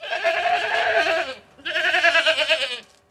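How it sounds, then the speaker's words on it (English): Goats bleating on a farm, two long, quavering calls separated by a short pause, near and clear with no voices. "26 goats."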